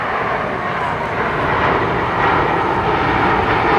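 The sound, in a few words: USAF Boeing C-17 transport aircraft flying at airshow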